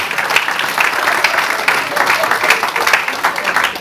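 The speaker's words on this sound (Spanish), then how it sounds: "Dele fuerte el aplauso a Jesús" Steady, dense applause from a church congregation, sustained and fairly loud throughout with a broad hiss of many hands and some voices mixed in.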